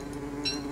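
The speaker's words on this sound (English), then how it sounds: "Yeah, bees come out and attack me." Bees buzzing in the video game Don't Starve, a short, faint, steady insect drone with a slightly rising swell partway through.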